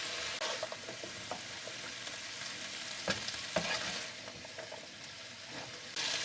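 Mixed vegetables sizzle steadily in a hot pan for a stir fry, with occasional clicks and scrapes from stirring, close and clear with no talking.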